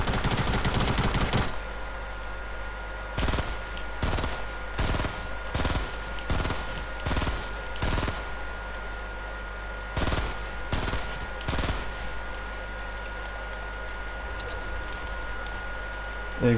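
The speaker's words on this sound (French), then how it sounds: "je lui mets déjà des balles" Rapid bursts of gunfire in the video game Fortnite, several quick volleys of sharp shots in a row with short pauses between them, loud and close, while players talk in between.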